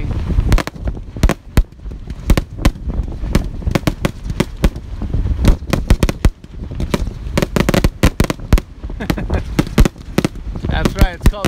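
A small high school fireworks display heard from nearby, with a rapid string of sharp cracks and pops of varying loudness, some overlapping bursts, and a crackling tail near the end.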